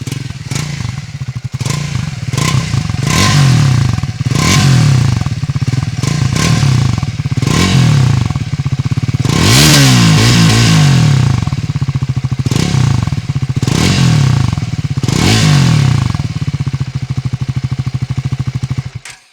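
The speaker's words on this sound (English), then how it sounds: "It's not a thumpy exhaust like say the Royal Enfield exhaust, but it does have a nice bassy sound to it" Triumph Scrambler 400 X motorcycle exhaust while riding, a steady bassy single-cylinder drone with repeated rises and falls in revs and some clatter, loud and continuous throughout.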